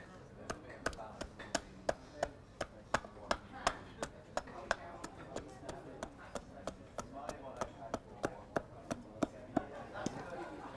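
An adze trimming the end grain of a wooden bowl, giving a steady series of crisp, evenly spaced chopping strikes, fairly quiet, under faint background talk.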